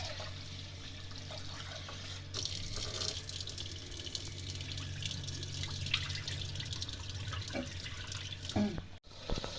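Water runs and splashes steadily into a container while rice is rinsed, with occasional drips and small clinks, fairly close and continuous throughout.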